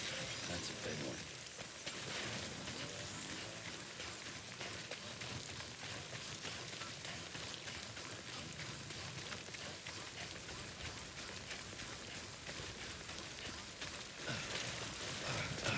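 Timefall rain in Death Stranding, a dense, steady hiss of falling rain that persists throughout at moderate loudness, with occasional faint voice-like sounds underneath.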